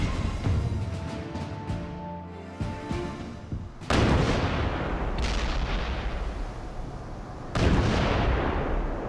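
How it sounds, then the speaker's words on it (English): A massive naval bombardment opens the American attack on Tarawa in November 1943. Heavy artillery rumbles continuously, broken by two loud, sharp blasts several seconds apart, with no talk over it. "the American attack begins with a massive naval bombardment"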